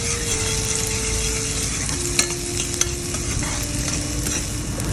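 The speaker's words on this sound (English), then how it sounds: "we're going to stir them well." Chopped onions and garlic stirred in a frying pan over medium heat, a steady close sizzle with scraping utensil strokes and a couple of sharp clicks throughout, no voices.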